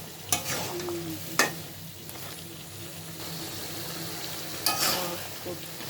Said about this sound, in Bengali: এখন আমি কচু দিয়ে দিলাম কচুটা কষিয়ে নিয়ে